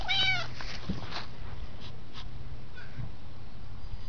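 A cat gives a short, bright meow at the start, then only soft rustling and faint background noise remain.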